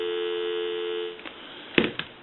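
A Western Electric Princess touch-tone desk telephone, freshly repaired, plays a steady busy-signal tone through the handset, clear and close, before it breaks off and a few clicks and handling knocks follow.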